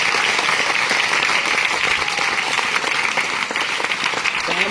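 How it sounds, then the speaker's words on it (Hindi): A church congregation claps loudly together, a dense, sustained wave of applause that fills the room without letup. "और इस कारण भवन के लिए एक बार जोर से ताली लगाएगा यीशु मसीह के नाम में।"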